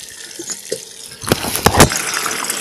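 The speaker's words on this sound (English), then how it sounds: "Here's the water tap." Water runs from a tap in short, splashy gushes, close and fairly loud, starting after a few faint clicks and handling noises.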